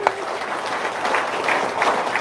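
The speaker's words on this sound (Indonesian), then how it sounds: "Tepuk tangan dong" Audience applause after a testimonial at a religious gathering, steady broadband clapping lasting a couple of seconds at moderate level, with faint voices mixed in.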